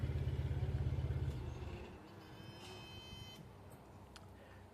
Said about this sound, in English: now what we need to do is we need to stop the engine